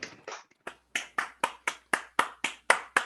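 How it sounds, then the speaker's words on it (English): Applause for a Sigma Pi Sigma induction ceremony comes through as about ten crisp, separate claps at a steady pace, close and fairly quiet, like a single clapper heard remotely rather than a full crowd. "Let's give a round of applause to all those who have helped along the way."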